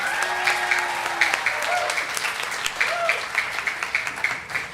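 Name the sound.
audience applause for kindergarten graduates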